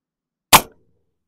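A single sharp gunshot from a 6mm ARC rifle cracks once, loud and close, with a brief decaying echo and silence on either side; only one shot is heard, not two.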